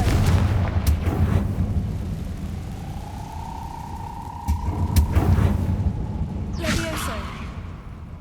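The Confringo fire spell in Hogwarts Legacy bursts with a deep rumbling boom and a whooshing streak, followed by a sharper crack later, set against a low continuous game ambience.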